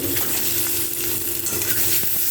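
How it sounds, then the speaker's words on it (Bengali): Duck eggs fry in a pan for a Bengali egg curry, giving a steady close hiss and crackle with faint stirring scrapes throughout, no voices. "তো এখানে ডিমটা ভাজা হতে হতে"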